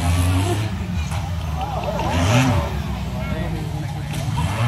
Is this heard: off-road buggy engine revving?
yes